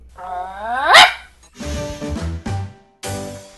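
A dog barks and yelps close by, a rising whine into a sharp bark followed by several gruff barks in quick succession, loud and alone.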